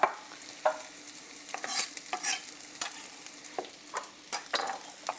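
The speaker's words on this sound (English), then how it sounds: "While onion is getting sauteed" Onions sautéing in a pan, a low sizzle beneath irregular scrapes and taps of stirring that come every half second or so, near and moderately loud, with nobody talking.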